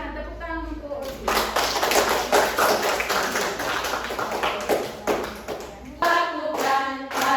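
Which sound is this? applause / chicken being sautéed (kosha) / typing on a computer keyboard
applause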